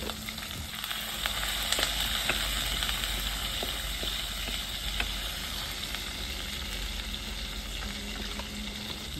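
Chopped onion, dried red chillies and whole cumin frying in hot oil with a constant close crackling sizzle. Scattered pops and faint stirring run throughout, with no other sounds.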